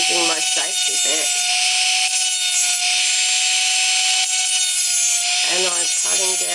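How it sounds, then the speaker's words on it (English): An electric nail drill files down into gel nail without a safety bit, giving a steady high whine that runs throughout, with a person talking over it at the start and end. "I'm going to put my drill down, and if you can see, I'm not using my safety bit"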